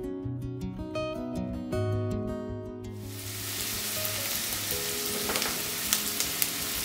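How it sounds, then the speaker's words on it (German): Onions soften in olive oil in a pan, giving a steady, close hiss and crackle of sautéing that takes over from soft background music partway through and carries on with no talking. "Dazu nehme ich jetzt erstmal ein bisschen Olivenöl und dünste ein bisschen die Zwiebeln."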